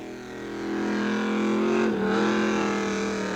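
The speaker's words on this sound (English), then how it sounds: "It literally chews up the cars with its treaded tank tracks." A car crusher converted from an M4 Army tank, running on treaded tank tracks, gives a loud, steady engine drone that rises slightly and holds, with a brief dip partway through, no talk.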